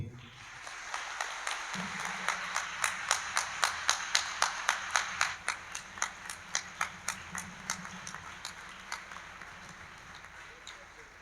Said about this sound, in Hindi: क्या एक अच्छी ताली यीशु मसीह के लिए हो सकती है?